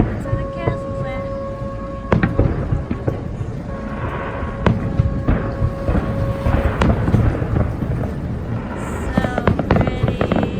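Disney fireworks burst over a castle, heard from a boat: repeated booming thuds and crackles, some close and sharp, others rolling and distant. Faint voices and a high whistling tone mix in.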